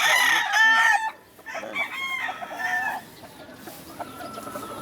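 A rooster crows loudly nearby, followed by more crowing and clucking from several chickens, the calls overlapping in bursts.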